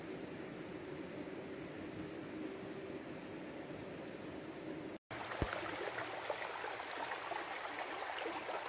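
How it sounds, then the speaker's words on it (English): River water rushes steadily on the remote upper Kettle River where Beck Creek flows in, a dense, constant outdoor roar with no voices and one momentary dropout midway. "Here I am on the upper reaches of the Kettle River, right where Beck Creek runs into the Kettle."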